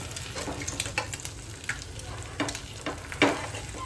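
An egg fries on a new tawa, giving a steady close sizzle with occasional scraping and stirring clicks over a few seconds, with no one talking.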